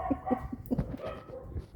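A dog barks and yips in a series of short, fairly close calls, with some softer whimpering between them, heard in a quiet domestic setting.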